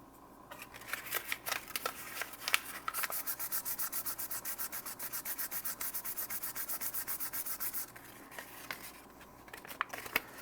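Sandpaper rubbing across the glossy plastic shell of an NES controller, a steady run of quick, even back-and-forth scrapes, close and fairly loud, with a few slower strokes at the start and end.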